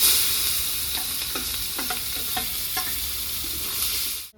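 Chopped onion fries in hot oil with bay leaves, cinnamon, cloves and green cardamom, a loud, steady sizzle broken by several close scraping stirs of a spoon in the pan, with no voices.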